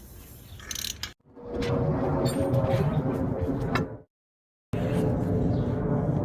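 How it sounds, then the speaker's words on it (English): A ratchet removes the flywheel bolts holding the torque converter during engine removal from a 1973 Mustang Mach 1, with rapid clicking bursts close by, separated by brief pauses and a short silence. "Just going to get the last flywheel bolts that are holding the torque converter."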